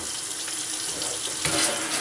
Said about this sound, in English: it's perfectly okay to use the water to spray it